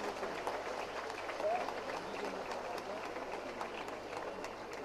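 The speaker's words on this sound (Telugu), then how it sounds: "Ladies and gentlemen, put your hands together and appreciate all these young hearts." An audience at a centenary celebration event applauds, a steady wash of clapping from a crowd in a hall that holds at an even level throughout, with faint voices mixed in.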